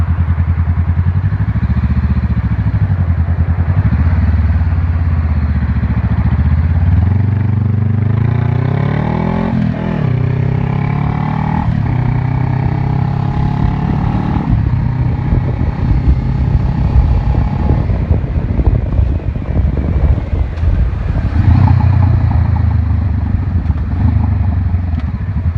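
Loud, continuous engine roar from a 2013 Honda CBR500R ridden with no muffler through Houston street traffic, rising and falling with revving and engine braking, heavy wind noise throughout.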